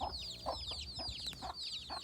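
A farm hen over three years old clucks in a rhythmic series of short, close, repeated calls, with thin high chirps running alongside.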